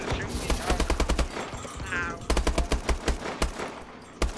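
Rapid video game gunfire, including a pistol, rattles in dense bursts of loud shots with a short pause in the middle, with a faint voice underneath.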